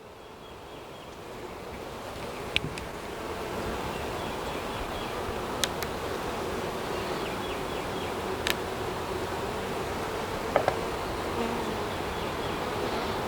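Many honeybees hum in a thick, steady drone close by at a hive of three deep eight-frame boxes with brood and stores, a few sharp clicks popping through and soft wind noise underneath.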